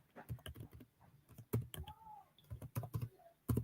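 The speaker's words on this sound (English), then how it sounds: "I'm typing them so that you can see" Keys tapped on a computer keyboard in irregular bursts of quick clicks with short pauses between, close and fairly quiet, with no voices over it.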